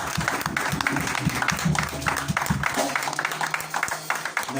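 A church congregation at an evening seminar in Strasbourg breaks into dense, sustained applause that fills the room, with a low held musical tone underneath.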